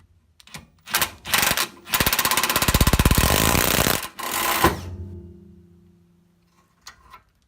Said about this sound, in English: So as I tighten this, it'll bring this arm up and push it right up out of there